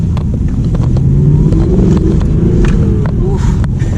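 A throaty Audi R8 V8 sports car engine roars loud and close in a steady, dense rumble, with slight rises in pitch as it revs.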